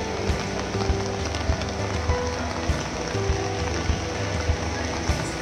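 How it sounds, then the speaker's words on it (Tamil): Moderate, fairly steady rain falls at an outdoor Murugan temple festival, a dense hiss of drops with irregular louder pattering hits on nearby surfaces throughout. "ரொம்ப ஃபோர்ஸாகவும் இல்லை, ரொம்ப கம்மியாகவும் இல்லை, ஆவரேஜாக கொஞ்சம் ஃபாஸ்ட்டாக தூரல் விழுந்துட்டுருக்கு"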